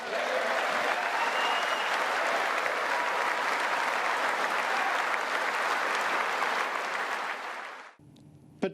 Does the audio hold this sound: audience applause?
yes